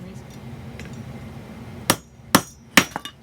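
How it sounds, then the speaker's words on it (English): A hammer strikes a steel center punch to flare a tube rivet on a small steel block, sounding as three or four sharp metallic taps close by after a quiet stretch, the last two coming in quick succession. "I like to get the rivet started with the center punch."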